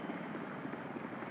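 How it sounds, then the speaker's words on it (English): A helicopter in a video game, a steady low rotor drone with a faint pulsing beat, heard alone at moderate distance for a brief moment. "They're in an helicopter."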